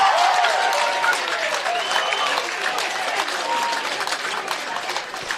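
A school rugby crowd at a First XV match between Napier Boys' High and Hamilton Boys' High cheers and applauds after a try, a loud sustained wash of clapping and shouts that gradually eases.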